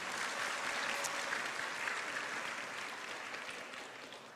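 An audience at a political talk event in Indonesia claps steadily in a dense, sustained round of applause that fades slightly toward the end, with no voices standing out.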